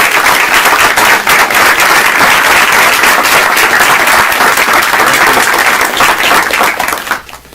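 A large audience bursts into sustained, loud applause for speaker Shaun King, dense clapping holding steady for about seven seconds before tapering off quickly.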